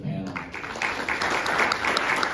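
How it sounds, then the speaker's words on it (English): Audience applause for a panel discussion on school choice expansion in Arizona, a steady wash of clapping that holds through the moment, with voices murmuring beneath it. "I'd like to have a nice round of applause for the panel."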